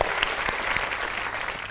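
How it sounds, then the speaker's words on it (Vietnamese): An audience at a Vietnamese dating show claps in a steady, dense burst of applause for under two seconds, filling the room evenly. "Một tràng pháo tay."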